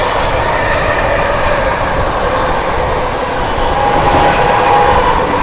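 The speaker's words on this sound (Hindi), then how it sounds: "चलिए बिहार संपर्क क्रांति एक और ओवरटेक करने जा रही है आनंद विहार जयनगर सुपरफास्ट स्पेशल को।" The Bihar Sampark Kranti Express races along at speed while overtaking the Anand Vihar–Jaynagar Superfast Special near Achalda, making a loud, steady rumble with rushing wind noise and faint wheel squeal, heard close from on board with no talking.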